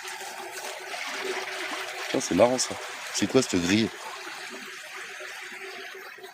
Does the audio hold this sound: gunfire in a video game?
no